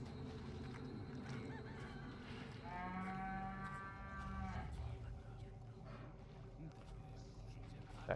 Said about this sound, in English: That cow almost gave away my position.